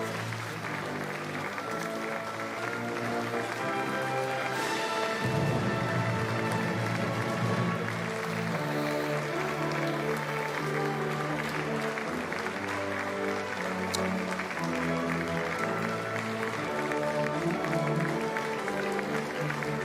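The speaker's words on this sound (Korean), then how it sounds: "이재명 대통령과 김혜경 여사가 더불어민주당 의원들과 또 일일이 박수를 나누며 선서식장으로 향하고 있습니다." Steady applause from a crowd of lawmakers at a presidential inauguration as the new president and first lady walk toward the oath ceremony, sustained clapping at moderate level throughout with a brief louder swell early on.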